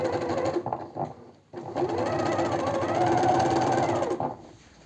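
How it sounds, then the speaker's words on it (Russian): A sewing machine stitches warm tweed trousers with a lining, running in a steady, close, loud mechanical whir. It pauses briefly near the middle, then continues evenly to the end. "Я теперь строчу."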